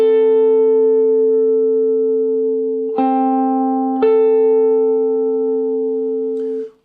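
A major sixth interval played on a sustained electronic keyboard tone, the two notes ringing together and re-struck twice, loud and steady before a quick cutoff.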